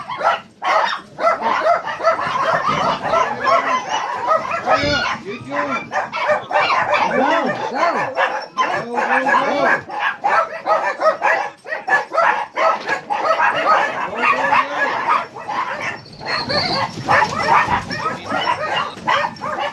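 A dog barks and yips repeatedly indoors, close and loud, mixed with people talking over game commentary.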